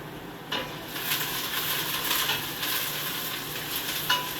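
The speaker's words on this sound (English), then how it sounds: "you gotta keep stirring them onions because you don't want them to burn" Onions sizzle steadily in a hot pan while a spoon stirs them, with scraping strokes and a few sharper clinks against the pan breaking up the continuous frying hiss. No one speaks.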